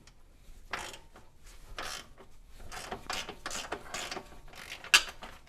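A wrench ratcheting and turning a nut loose on the suspension of a BMW 335i E90, with several short, close rasping bursts in uneven rhythm and a sharp click near the end.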